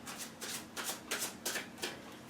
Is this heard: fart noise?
no